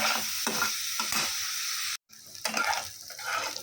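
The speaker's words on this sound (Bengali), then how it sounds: "চলো আমি চিংড়ি মাছটাকে ভালো করে ভেজে নিই।" Prawns frying in oil in a kadai while figs are cooked into a curry, a steady hiss of sizzling with stirring scrapes, broken by a brief silent cut before the frying resumes close and loud.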